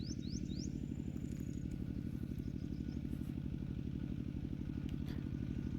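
A tractor engine ploughing a rice paddy chugs steadily and close by, its rapid, even low thumping unbroken throughout, with faint bird chirps and scattered clicks above it.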